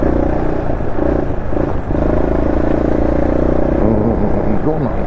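Honda SL230 motorcycle engine revving after a muffler change and carburetor pilot jet swap, a steady loud rumbling drone with rises in revs toward the end, under continuous talk.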